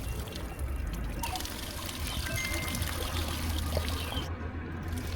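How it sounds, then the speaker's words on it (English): Dirty water pours out of an opened 12-volt car battery in a continuous, fairly loud stream that runs steadily throughout with no talking. "You can see the water comes out quite dirty."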